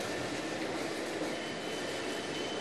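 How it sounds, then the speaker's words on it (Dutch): Steady, loud rumble of a metro train inside an underground station hall in a big city, a continuous dense roar with no voices. "Dit is een metrohal van een miljoenenstad."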